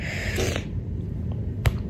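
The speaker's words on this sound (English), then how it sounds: "did you hear that though? The sniffling?" Sniffling from a person getting emotional, a few short nasal snorts and sniffs up close, with one sharper sniff near the end over quiet room tone.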